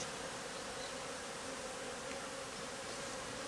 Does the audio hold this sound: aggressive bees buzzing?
yes